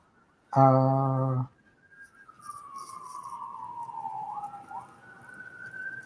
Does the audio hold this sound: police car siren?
yes